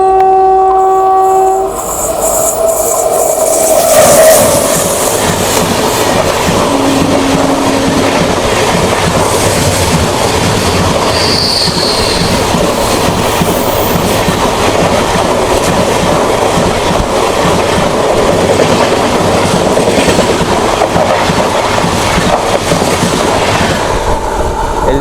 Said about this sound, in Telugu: మన ట్రైన్కి మొదటి cross Lingampalli Bezawada intercity express వస్తుంది